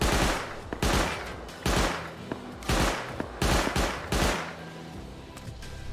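Gunfire in the Rust survival game: several loud bursts of rapid shots, each a cluster of sharp cracks, arriving in repeated volleys with brief gaps between them.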